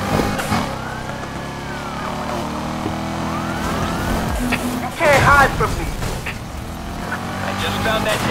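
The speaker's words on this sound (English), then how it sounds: "Flip on the sirens and get after them." Police sirens wail with rising and falling tones over engine roar and tire noise, while voices talk over the chase, from a sprint race in Need for Speed Heat.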